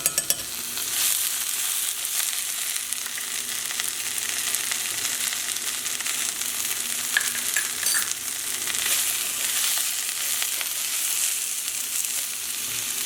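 Salmon fillet sizzling in a hot pan, a steady, dense crackle and hiss that stays even and close throughout with no talking.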